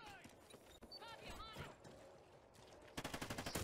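Gunfire in the video game Call of Duty Ghosts, Kill Confirmed mode: scattered distant shots, then a loud rapid automatic burst near the end, with other game sounds in between.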